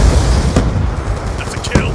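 A sharp, heavy blast goes off in a Black Ops 2 video game match, with booming impacts and bursts of game noise layered beneath loud voices talking over it.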